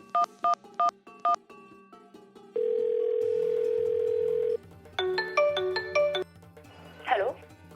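A phone keypad beeps a series of tones, then a steady dial tone, then more rapid dialing tones, with a brief voice at the end.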